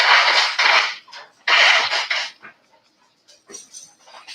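Dogs panting heavily after being let out, bursts of rapid breathing coming in two loud stretches, then quieter snuffling and movement.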